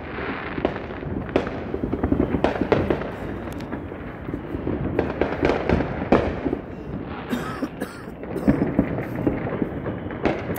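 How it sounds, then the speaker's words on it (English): New Year fireworks over New Orleans, Louisiana: a dense run of booming bursts and sharp crackles, loud and continuous, with layered detonations overlapping throughout and no speech. "A fireworks show."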